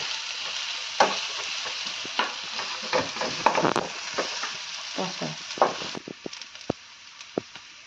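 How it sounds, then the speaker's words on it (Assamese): Food frying in a pan over raised heat, a moderate sizzle broken by scraping stirs and clinks that thin out toward the end. "ভাজিব দিম অকণমান, জুইটো বঢ়াই দিছোঁ।"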